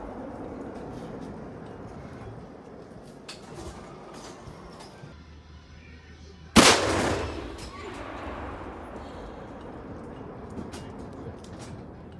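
A single powerful tank cannon blast booms out, its heavy report rolling and decaying over a few seconds against steady outdoor background noise.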